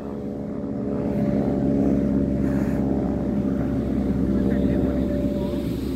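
Pitts biplane at an airshow passing overhead, a loud, steady propeller-engine drone that swells in after the first second and holds, with faint voices underneath.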